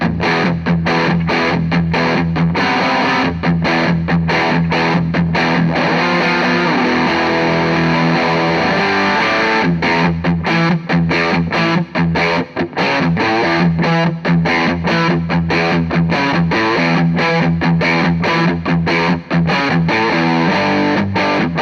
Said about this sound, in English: it just kind of like barks and opens up the amp so much